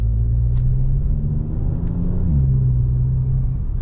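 A low, steady exhaust rumble through a Barenwald intermediate muffler drones from inside a closed car, muffled and constant with a slight pitch dip midway.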